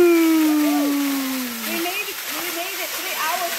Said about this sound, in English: Maples waterfalls.